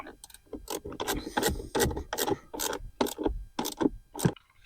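Ratchet fitted with a 10mm socket tightening the battery cable nut on a 2021-2025 WL Jeep Grand Cherokee, a quick run of about a dozen sharp, close clicking strokes in an uneven rhythm, heard alone.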